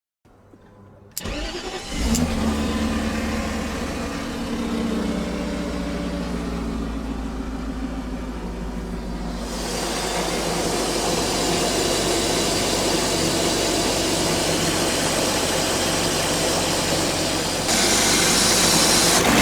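A 1995 BMW 540i E34 engine cranks and catches, then settles into a steady, loud idle that continues throughout with a constant low rumble.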